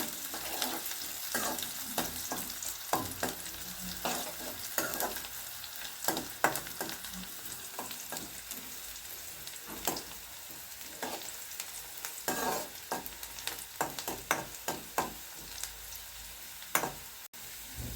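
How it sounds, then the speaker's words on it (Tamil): Onions for Chettinad chicken gravy sauté in a pan with a constant sizzle, broken by frequent scraping strokes and clinks as a spoon stirs them, close and moderately loud, with no speech. "கொஞ்சம் லேசாக வெங்காயம் வதங்கட்டும்."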